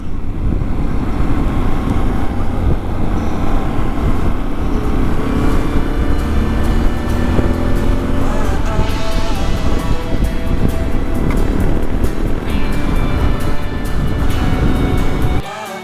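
A Yamaha Ténéré motorcycle rides through Richloam wildlife management area in central western Florida, its engine droning continuously under heavy rushing wind noise.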